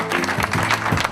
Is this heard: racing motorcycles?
no